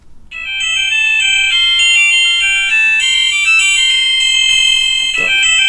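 A cheap smart watch plays its fifth text message alert tone, a loud, bright electronic melody of sustained beeping notes running for several seconds, close and alone.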